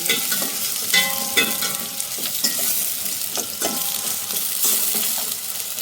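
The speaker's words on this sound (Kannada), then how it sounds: "ಇದು ಗೋಲ್ಡನ್ ಫ್ರೈ ಸ್ವಲ್ಪ ಆಗಲಿ, ಸ್ಮೂತಿ ಆಗಲಿ ಅಷ್ಟೊತ್ತ ನಾವು ಫ್ರೈ ಮಾಡ್ತಾ ಇರೋದು" Chopped leafy greens fry in hot oil for a palya, giving a steady, close sizzle with repeated spatula stirs and scrapes throughout and no voices.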